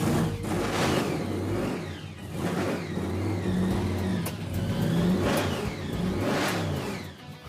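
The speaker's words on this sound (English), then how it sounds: "It's loud, it's got some power, and it's good." A 1957 Chevrolet's classic engine cranks, fires and revs hard several times, loud and close, with surging swells of engine roar and no talking.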